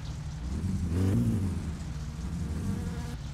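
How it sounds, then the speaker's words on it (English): Flies buzzing in My Summer Car, a steady droning hum that holds throughout with a slight swell near the middle, fairly close and continuous, with no voices. "Are those flies?"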